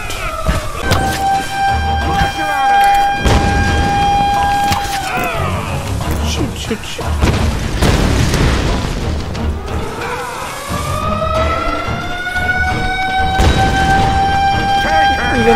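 Explosions from TNT in Tomb Raider Game of the Year Edition: heavy booms and crashing debris that break up sustained tonal game sounds, with a voice talking over the action.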